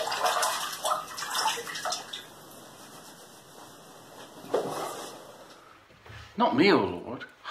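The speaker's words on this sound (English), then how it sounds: "John, let me wash your feet." Feet being washed with water in a basin during a church reenactment, with sloshing and splashing heard close by and a person talking over it toward the end.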